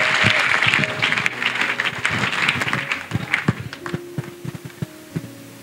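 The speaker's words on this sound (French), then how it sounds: "Clap offering to Jesus Christ." Congregation at a national couples' retreat clapping as an offering to Jesus Christ, a dense broad wash of applause that is loud at first and thins into scattered claps, with steady tones and hum underneath.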